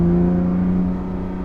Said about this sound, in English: Gosh, the downshifts